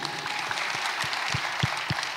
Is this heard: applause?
yes